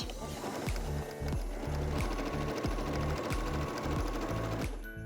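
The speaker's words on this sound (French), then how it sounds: "on fait la piqûre sur tout le pourtour, sauf au niveau de l'ouverture qu'on a laissée" A sewing machine stitches around the edge of a cushion, a quick steady mechanical chatter of needle strokes, close and continuous, with a brief pause before it stops near the end.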